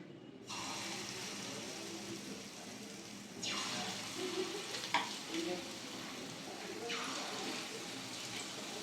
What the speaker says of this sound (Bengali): তেলটা গরম হয়ে গেছে। আমি বেসনের বড়াগুলো ভেজে নেব।